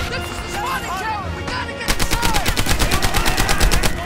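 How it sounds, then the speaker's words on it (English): Rapid bursts of gunfire and blasts from the World War II shooter Medal of Honor Airborne, a dense rattling volley that intensifies partway through and keeps up a steady, loud, repeating rhythm with no talk over it. "the gunfire and explosions are a little underwhelming in Airborne"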